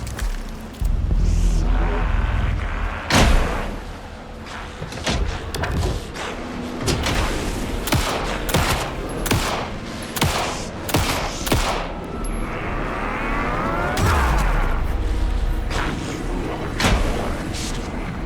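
Gunfire in the video game Alan Wake 2, final boss fight: repeated sharp shots and bursts crack out over a dense, loud backdrop of game music and effects across the whole stretch.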